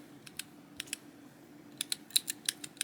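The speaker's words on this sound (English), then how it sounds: "I got the switch tester so I could test the sounds and the feels" A mechanical keyboard switch tester is pressed repeatedly, giving crisp, close clicks: a few scattered presses, a pause, then a quicker burst of clacks, all quiet against a faint background.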